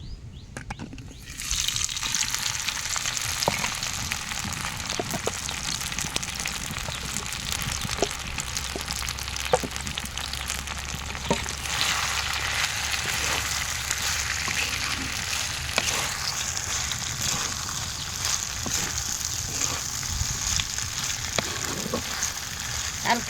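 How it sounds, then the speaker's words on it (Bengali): Soy chunks fry in hot oil in a clay pot over a stove, a dense crackling sizzle that starts abruptly and holds steady, with faint stirring taps scattered through it. "হালকা একটু নাড়াচাড়া করে ভেজে নেব।"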